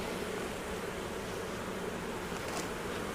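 Honey bees drone steadily inside an opened hive during an inspection, a dense, continuous buzz close by with no voices.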